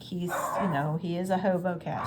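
Dogs bark and yip in short bursts close by, mixed in with someone talking quietly.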